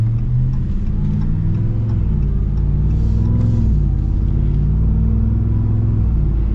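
A high-mileage Ram TRX pickup engine heard while driving makes a steady, loud low rumble and drone with slight rises in pitch, continuous throughout and with no talking.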